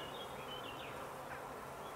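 Honey bees from a colony dying of chronic bee paralysis virus give a steady, close buzz with no pauses and a few higher wing whines drifting over the hum.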